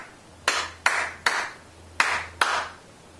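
Five sharp wooden clicks from sticks or a homemade drum, struck in an uneven rhythm with short decaying rings, close and fairly loud with no talk.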